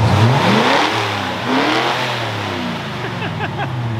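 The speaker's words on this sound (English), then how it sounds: "I don't think I've ever revved it that high before." A Ford F100 engine, burning oil, revs hard and loud inside a shop, a sustained high-revving roar that swells, eases slightly and climbs again close by.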